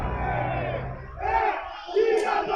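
Corinthians supporters protest at Parque São Jorge, a large crowd chanting and roaring loudly together in rising and falling waves of massed voices.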